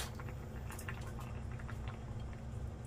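Tomatoes boil in a covered pot for seaweed soup, a faint, steady bubbling and light patter under a low hum, with no talking.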